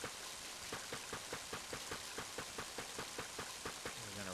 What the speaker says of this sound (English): We're gonna run home in the rain.